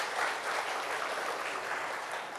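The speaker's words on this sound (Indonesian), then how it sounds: "Boleh tepuk tangannya?" Sustained crowd applause at an Indonesian political party event announcing endorsements of regional candidates, a dense steady clapping that fills the room throughout.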